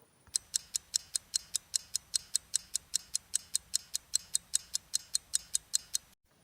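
A clock in a watch repair workshop ticks sharply and close by, with about twenty evenly spaced, crisp ticks in a steady rhythm before it stops abruptly.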